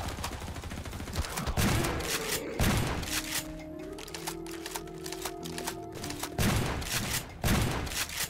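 Rapid bursts of gunfire ring out in Hell's Prison, a Garry's Mod horror map, as the player is shot; loud, close volleys come in clusters, with a droning tone in between.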